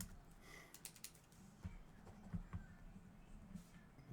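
Keystrokes on a computer keyboard, faint and close, a few scattered taps and short bursts of typing over a quiet room hum.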